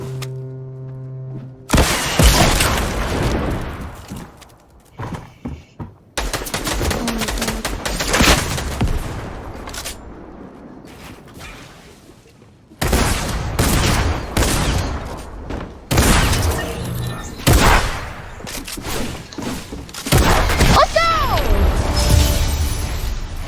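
Repeated shotgun blasts in a video game shootout, loud bursts arriving in several clusters with brief gaps, mixed with crashing impacts and a faint voice now and then.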